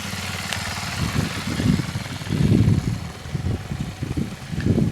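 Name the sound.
Sachs X Road 125 motorcycle riding slowly in second gear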